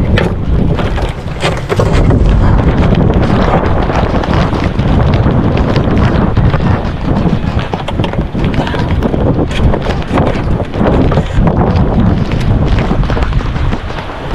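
Strong wind buffets the microphone continuously, a loud broadband roar with gusty rumbling that barely lets up, outdoors while loading gear before an early-morning departure by boat.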